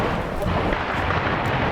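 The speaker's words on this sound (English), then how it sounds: "Volleys of gunfire were being traded in residential streets" A dense, continuous roar of rumbling blasts and crackling, like heavy gunfire and explosions blending together at a distance, with no clear pauses, as volleys are traded in residential streets during fighting in Mariupol, Ukraine, 2014.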